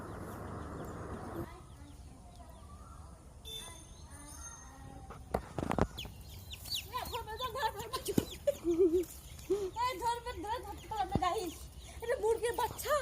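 Chickens cluck in short repeated bursts, faint at first and then closer, with scattered handling noises in a quiet setting.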